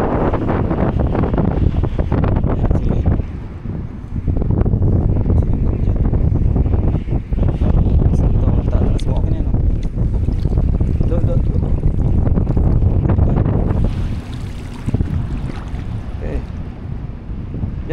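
Strong wind buffeting the microphone at a shore while a 14-foot cast net is thrown, a loud continuous roar with gusty surges and a drop near the end, voices talking underneath.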